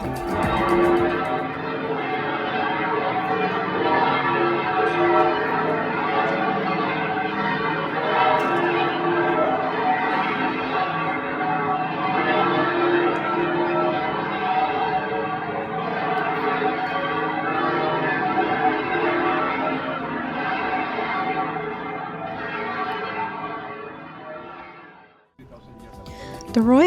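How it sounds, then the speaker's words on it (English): Seville Cathedral bells ring at noon, a full, continuous peal of overlapping strokes heard from a nearby courtyard for over twenty seconds before fading out. "the cathedral bells went off at noon"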